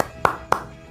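Two sharp hand claps ring out in a steady rhythm during a children's Quran lesson chant, loud and close, with a brief sound just before them.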